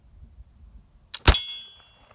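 A flintlock pistol ball strikes a metal target: a single sharp metallic clang with a short ringing tail, preceded by a faint crackle and quiet low rumble.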